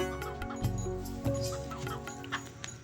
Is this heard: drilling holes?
no